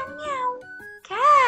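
A cat meows twice, close and clear: a long drawn-out mew, a short pause, then a second rising meow.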